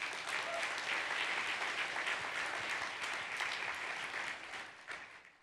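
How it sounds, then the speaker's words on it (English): An audience at a conference gathering claps in sustained, dense applause. It stays steady for several seconds, then tapers off toward the end. "Let's give them all a round of applause."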